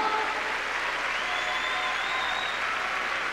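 An arena crowd at the 1998 Nagano Olympics applauds 16-year-old figure skater Shizuka Arakawa as she takes the ice for her short program: dense, steady clapping that fills the whole stretch without letup.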